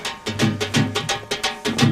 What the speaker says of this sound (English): This is an actual Indian drum which is called a dhol,